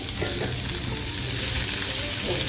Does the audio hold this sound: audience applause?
no